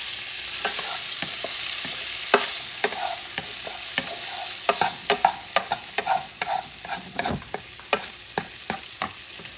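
Shrimp dip ingredients with a squeeze of lemon are stirred with a spoon against a bowl, giving repeated close clicks and scrapes that come faster toward the end over a soft background hiss.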